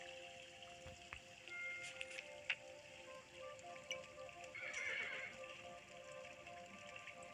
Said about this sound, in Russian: А, лошадь устала.